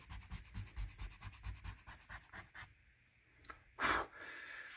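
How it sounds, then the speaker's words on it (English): Rapid rhythmic rubbing and scratching of a school pencil eraser removing pencil shading on paper, close and quiet, stops abruptly, followed by a brief brushing sweep. "Go ahead and erase right up to that edge if you want to."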